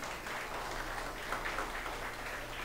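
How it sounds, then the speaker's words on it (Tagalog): A crowd applauds in a steady, dense wash of clapping that holds evenly for a few seconds, with no voices on top. "Palakpakan natin si Jesus."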